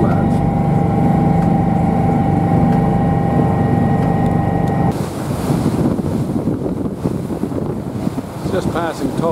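A boat cruising at sea off the New Zealand coast near Tolaga Bay at about 9.5 knots, with a steady engine drone giving way to heavy wind buffeting and rushing water as waves wash past the hull.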